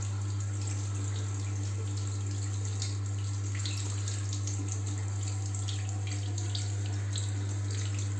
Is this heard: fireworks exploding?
no